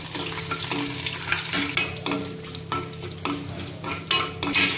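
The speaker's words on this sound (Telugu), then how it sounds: "ఆయిల్ హీట్ ఎక్కగానే పోపు దినుసులు వేసుకోవాలి. కరివేపాకు, ఎండుమిర్చి కూడా వేసుకొని ఇదంతా ఇలా కలుపుకోవాలి" Curry leaves, dried red chillies and tempering spices sizzle loudly in hot oil for a chutney served with ragi dosa, while a spoon repeatedly scrapes and clinks against the pan as it is stirred.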